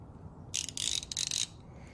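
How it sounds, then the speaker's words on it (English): A ratchet with a deep 10mm socket working on a carburetor bolt of a Honda GL1500 motorcycle: one brief, close burst of rapid metallic clicking lasting about a second, alone. "you just need a deep socket 10mm and a ratchet and a little bit of elbow"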